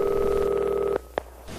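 A telephone rings with a steady electronic tone for about a second, then cuts off, followed by a brief click and quiet line noise.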